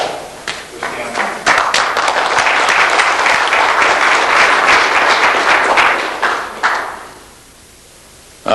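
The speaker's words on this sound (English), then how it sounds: "Please let's give a round of applause for Stanley." A conference audience at a 1997 talk in Denver claps in dense, sustained applause for several seconds, then it tapers off and fades to near silence before a voice begins.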